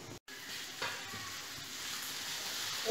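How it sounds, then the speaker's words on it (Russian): Vegetables frying in sunflower oil in a pan, a steady close sizzle with faint stirring and no voices, briefly cut off by a silent gap near the start. "вот овощи пассеруем на сковородочке на подсолнечном масле до золотистого"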